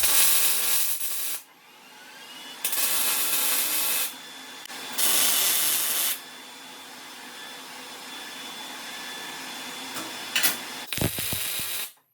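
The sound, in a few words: tack welding steel table leg joint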